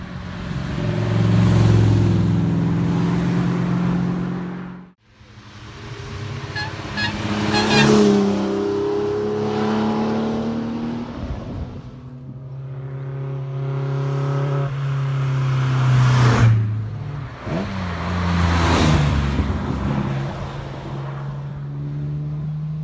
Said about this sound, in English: it sounds to me like we're about to see some fun cars drive past.